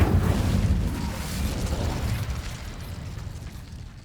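The Incendio fire spell in the video game Hogwarts Legacy goes off as a loud, booming blast that starts strong and then fades into a rumbling roar.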